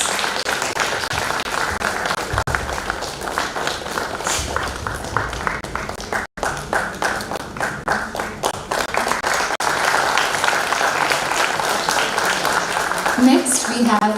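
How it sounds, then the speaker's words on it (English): Sustained audience applause fills a hall at a national Odissi dance competition, dense rapid clapping continuing for over ten seconds with a brief dip midway, and an announcer speaking over it. "Ms. Padmini Kumari Pradhan, a huge round of applause."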